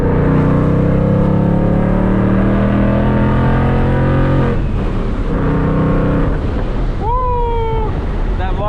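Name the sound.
supercharged Mustang engine revving up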